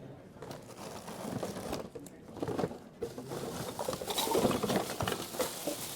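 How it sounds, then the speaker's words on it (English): Hands handle and crinkle a plastic film bag during a recycling workshop, making a close, continuous rustling and crackling that grows busier toward the end. "So I have a plastic bag."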